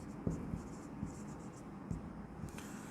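A pen writes numbers by hand on paper in a quiet room, giving soft, faint scratches and light taps in an uneven rhythm, with no voices.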